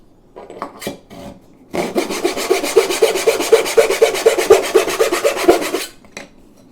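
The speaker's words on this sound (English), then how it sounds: "we'll use our little miter box" A small handsaw cuts through a thin wood strip held in a little miter box, a steady run of rapid rasping back-and-forth strokes for about four seconds, close and fairly loud, preceded by a few light knocks.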